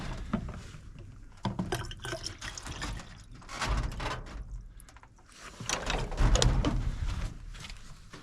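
Water is poured into containers in a small cabin in Willow, Alaska, with several uneven bursts of splashing and filling that swell and fade, along with faint clatter between pours.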